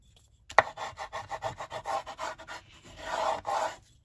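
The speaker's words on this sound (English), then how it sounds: "So front and back washi tape. Use the burnishing tool." A burnishing tool rubs firmly over washi tape on a junk journal page, giving a quick sharp contact and then a run of short scratchy rubbing strokes in a steady rhythm, close and fairly quiet.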